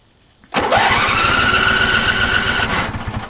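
A 1995 RC Wizzard riding mower's starter cranks loudly and steadily for over two seconds, whirring without the engine catching, then winds down.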